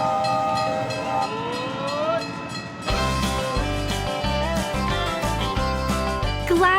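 A steam train runs with a rising whistle, then heavy rhythmic chugging and clanking of rail cars joins in, ending on another whistle blast; loud and close, with no talking.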